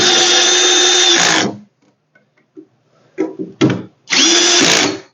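Power drill driving screws to assemble an ARS EZ storage rack, two long loud whirring runs separated by quiet handling and short clicks, the drill near and alone.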